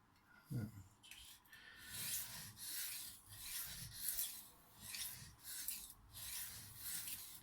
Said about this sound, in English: smooth sound again as I take that burr off